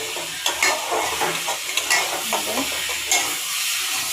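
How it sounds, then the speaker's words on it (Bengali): Bengali spice paste being sautéed in a pan sizzles steadily with a bright, crackling hiss, broken by scraping stirring strokes at close range, with no talking. "অনেক সুন্দর করে কষানো হয়ে গেছে আমার মশলাটা।"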